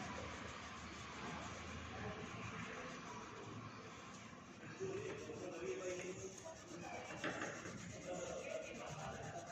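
A Christmas tree drawing is coloured in black, with steady, soft scratchy rubbing strokes repeating close by while a voice talks over them.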